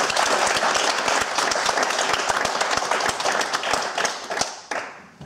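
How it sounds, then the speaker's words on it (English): Conference audience applauding at an award presentation for a programming-languages symposium, a loud sustained round of many hands clapping with sharp individual claps throughout, tapering off at the end. "let's give them a virtual applause for you guys"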